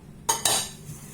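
Coconut and semolina mixture stirred in a pot, two quick close metallic scrapes of a utensil against the pot followed by a fading rustle.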